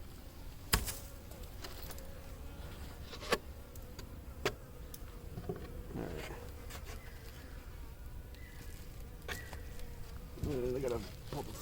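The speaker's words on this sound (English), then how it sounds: "Get all the bees off." Honey bees buzz steadily around an opened hive during a February inspection with pollen patties and beetles about, a dense close droning swarm with a few sharp knocks and clicks of handling, voice faint in places.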